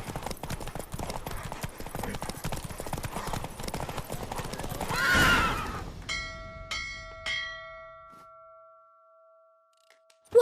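Horse in The Witcher 3: Wild Hunt galloping with rapid rhythmic hoofbeats that swell and then fade out, followed by a few clear bell-like chimes ringing out in the quiet.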